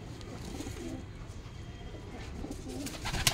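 Soft, low cooing of Punjabi Malwai pigeons repeats under a steady background murmur, fairly close, with a rustle near the end.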